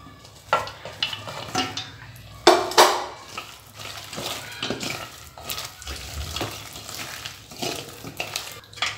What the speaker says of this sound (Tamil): நம்ம இப்போ காலிஃப்ளவரை கொஞ்சம் கொஞ்சமாக சேர்த்துக்கலாம்.